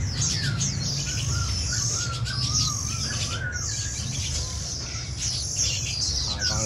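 Young white-eye songbirds kept in cages chirp and twitter steadily, with many overlapping high calls and trills close by over a constant low background hum.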